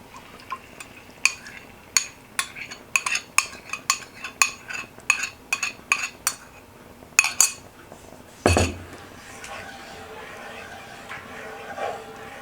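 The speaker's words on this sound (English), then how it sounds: "you're gonna stir fry coconut sauce to get thick." Metal utensil clinks and scrapes against a pan as oil, garlic and coconut sauce are stirred and fried for asparagus, a quick run of sharp taps followed by a louder scrape and a quieter, steady sizzle.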